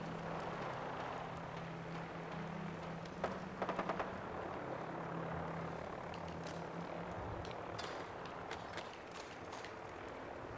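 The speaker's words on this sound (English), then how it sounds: "Sounds like a helicopter. Yep. Vertibird." A Vertibird helicopter in Fallout 4 drones steadily in the distance with a low rotor hum, joined by a few sharp crackling bursts like far-off gunfire.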